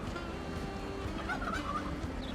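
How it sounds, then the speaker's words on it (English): Turkeys gobbling in the Transport Fever 2 video game, a steady fowl chatter with a few gobble calls over a dense background hum, moderately loud and unbroken for a couple of seconds with no talk. "Turkeys."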